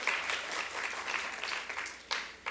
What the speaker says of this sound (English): So let's give them a round of applause for all they've done.